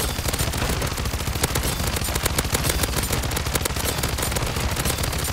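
Rapid, continuous SMG fire from a buffed submachine gun in Call of Duty: Modern Warfare III Zombies, with dense, unbroken bursts of shots at steady loudness throughout and no talk.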